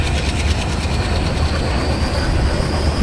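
Train accelerating in Train Simulator on a new Indian Central Railway route: a steady, loud rumbling roll with rhythmic mechanical clatter and a high whine, continuous throughout with no talk.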